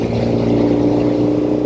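A restored 1972 Norton 750 Commando Combat motorcycle engine runs smooth and steady at high RPM, its loud, even drone heard close and alone.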